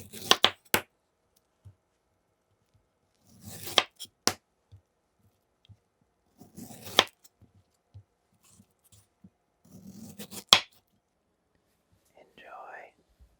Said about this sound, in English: Quarter your pineapple and then cut it into chunks.